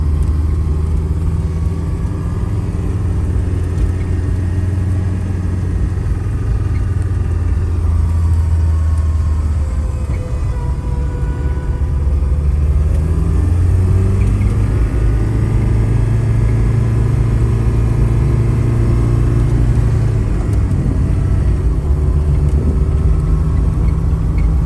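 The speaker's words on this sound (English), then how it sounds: "you can see it running. And we'll take it for a drive." A Ford Escort with a swapped-in Honda K24 engine runs steadily with a low, continuous rumble, then pulls away and drives, the engine note rising and falling slightly under a constant road drone.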